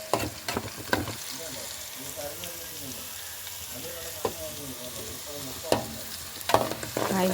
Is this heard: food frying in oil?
yes